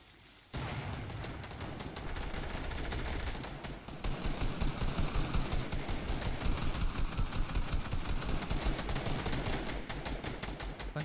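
Sustained automatic gunfire in the video game Fortnite, loud and dense rapid bursts nearly nonstop after a brief quiet start, with no talk over it.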